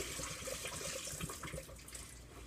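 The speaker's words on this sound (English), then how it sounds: "now what we're going to do is we're going to drain off the water" Water drains off a container of sliced potatoes being rinsed for homemade chips, a continuous splashing, gurgling pour close by with no voices.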